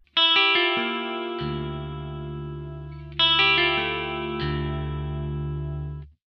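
Electric guitar through a Vox amPlug 3 High Gain headphone amplifier plays a short picked phrase into sustained chords, repeated twice, with a shimmering, wavering chorus effect thickening the tone.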